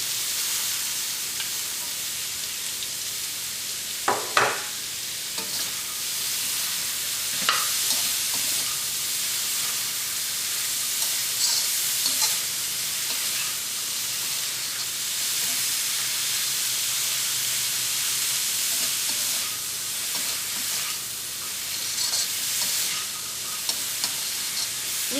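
Snake gourd is stirred into cooked tomato in a pan for a Kerala lentil curry, giving a steady hissing sizzle with a few scattered scrapes and knocks of the spoon. No one speaks.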